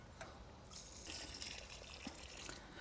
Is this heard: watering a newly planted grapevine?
yes